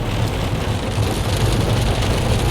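Dense, steady rain patters hard on a 2008 Subaru WRX STI, heard from inside, a constant loud hiss with a low rumbling undertone and no voices.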